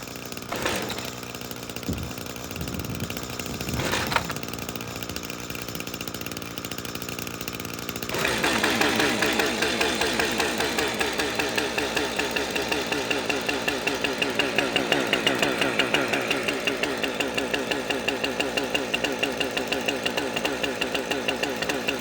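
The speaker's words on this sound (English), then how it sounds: "Let it fast idle." A computerized chainsaw, with the choke off, revs up to a steady fast idle after a few quiet seconds. The engine drones loudly and continuously in a close, rapid buzzing pulse.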